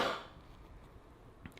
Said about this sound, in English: The cough's never gonna go away.